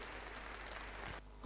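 An audience at an IMC business seminar gives a dense burst of clapping that stops abruptly near the end.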